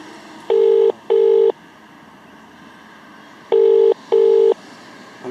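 An outgoing phone call's ringback tone, two loud double-pulse rings separated by a pause, each pair of short steady tones sounding over a constant low background hum.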